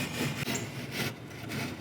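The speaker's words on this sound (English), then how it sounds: "Sam's gonna use a utility knife to just trim this edge off" A utility knife trims leftover edge banding off a cabinet edge in rough, raspy scraping strokes, close and steady, with short rhythmic pulses as the blade is drawn along.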